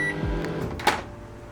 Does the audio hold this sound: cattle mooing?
no